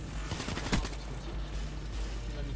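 Gunfire in the video game Call of Duty Black Ops 3, a dense burst of rapid shots clustered near the start, then continuing busy battle noise at steady loudness with no talk.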